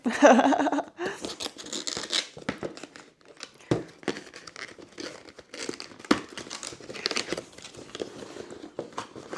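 Cardboard and plastic packaging of an Elgato 4K S capture card crinkles and tears in quick, busy bursts, with a loud rip at the start followed by steady handling rustle close by.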